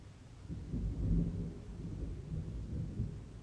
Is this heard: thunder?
yes